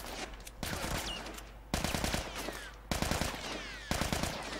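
Automatic gunfire in The Last of Us Part II, four loud bursts of rapid shots, each followed by a short lull of ringing noise and shell-like tinkles, close and punchy.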